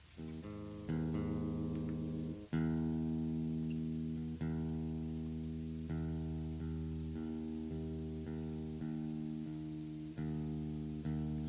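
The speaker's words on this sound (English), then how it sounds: "I'd probably turn the volume off to the guitar before I tuned it" Electric guitar tuned with the amplifier volume still up, single plucked notes ringing and sustaining through the speaker, one after another, moderately loud and close, with no talking.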